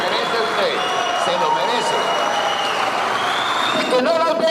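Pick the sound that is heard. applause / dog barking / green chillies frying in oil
applause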